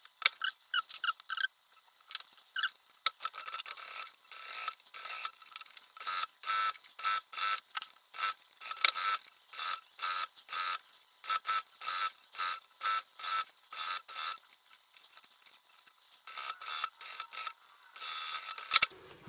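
A sewing machine stitches a seam through many layered softshell fabric on a vest near a zipper, running in quick mechanical bursts separated by brief stops throughout, close and clear with no talking.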